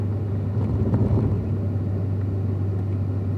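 A car on a race track braking into turn 3, heard as a steady low engine drone and road rumble, loud and continuous throughout with no speech.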